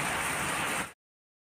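Steady rain falls on Shivratri day, a dense, even hiss that continues without a break and then cuts off abruptly just before the end.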